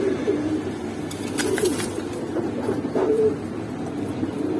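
Pigeons at a bird market coo in low, throaty bursts, several calls rising over a busy background murmur.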